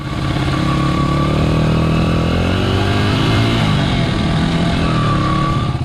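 An 80cc dirt bike runs at full throttle close by. The engine makes a loud, continuous buzzing drone that holds steady, with a slight pitch shift partway through, and no voices are heard.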